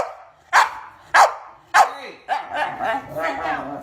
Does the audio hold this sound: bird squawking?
no